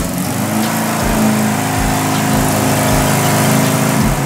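An old imported motorcycle, about fifty years old and just unloaded from a container, with an overhauled carburetor, runs through an engine check: a steady close mid-pitched idle with a few rhythmic pulses and no talk.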